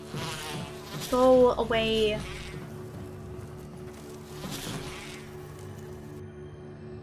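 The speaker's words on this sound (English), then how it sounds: "I don't want to have to deal with all of these bees." Bees buzz in the Resident Evil 1 Remastered video game, a steady insect drone through a large room, with a brief louder swell near the start while a voice speaks over it.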